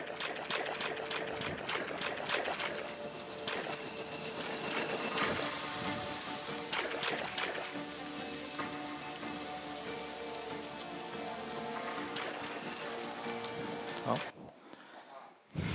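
In a video game test scene, a cicada's loud, sustained high buzzing drone rises and swells, cuts off abruptly, returns after a quiet stretch, then stops again, above a murmuring ambient background.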